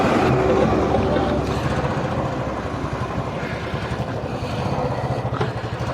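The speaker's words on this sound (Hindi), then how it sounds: "बाइक भी गर्म हो गई है।" A motorcycle engine that has just warmed up runs steadily at close range on a hill road near Srinagar, Uttarakhand, giving a continuous low rumble with a slight rhythmic pulse and no talk over it.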